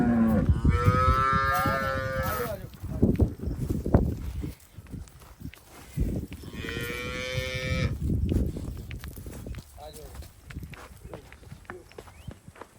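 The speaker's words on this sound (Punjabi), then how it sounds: "ਲੋ ਜੀ ਵੇਖੋ ਗਾਂ" Two long, loud cow moos close by at a cattle sale in Gurdaspur district, Punjab, separated by a few seconds, with shuffling and background voices between them.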